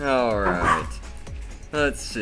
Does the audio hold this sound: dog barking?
yes